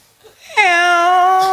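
A cat gives one loud, drawn-out meow close by, rising quickly and then holding steady for about a second.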